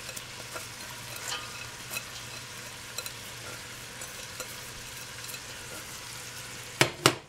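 Shredded cabbage is stirred into a vegan cabbage soup pot on the stove, giving a steady low sizzle with soft scraping stirs, a couple of louder clatters near the end, close and without voices.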